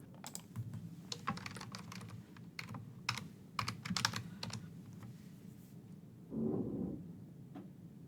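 Light, quick typing on a computer keyboard in a quiet room, irregular clusters of soft key clicks close to the microphone, ending with a brief duller knock.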